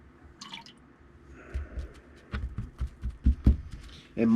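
Water drips and splashes in irregular, close taps onto and into a leather knife sheath as it is soaked for wet molding, the drops growing denser and louder toward the end.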